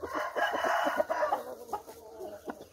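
Preselected fighting roosters kept in pens crow and cluck close by, giving a drawn-out crow followed by short, choppy clucks and calls at a moderate level, with no talk.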